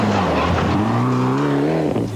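Rally cars race past on a New Zealand rally stage, among them Dean Sumner's ITM Mitsubishi Lancer production car: a loud, close engine note rising and falling in pitch as a car sweeps by, with no talking.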